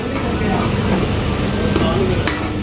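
Yogurt stirred into chicken for Bombay-style biryani, a steady thick scraping and mixing noise running throughout, close and fairly loud, with a faint frying hiss in the background.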